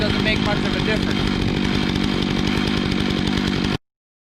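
Alaskan chainsaw mill ripping lengthwise through a small log, a loud steady buzzing engine whine held throughout before cutting off abruptly at the end.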